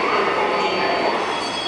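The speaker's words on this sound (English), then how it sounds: "There's the 6 train right there." A New York City subway 6 train at City Hall station, a loud continuous rumble and wheel screech filling the platform with no break.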